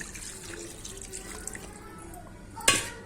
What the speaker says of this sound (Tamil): நான் வந்துட்டு ரெண்டு சொம்பு அளவுக்கு தண்ணி சேர்த்துக்கிறேன்